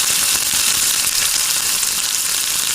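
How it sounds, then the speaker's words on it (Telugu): Spiral-cut spring potatoes deep-frying in a pan, with a loud, dense, continuous sizzle and bubbling of hot oil that runs unbroken the whole time. "బాగా ఫ్రై అయిపోయినాయి."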